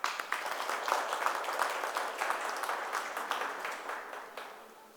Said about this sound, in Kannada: ಒಂದು ಒಳ್ಳೆಯ ಚಪ್ಪಾಳೆ